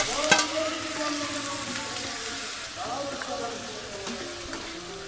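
Loitta fish (Bombay duck) coated in chili spice paste, with tomato, sizzles steadily in a pan on a stove turned to low heat, with occasional stirring clatter and a faint muffled voice in the background.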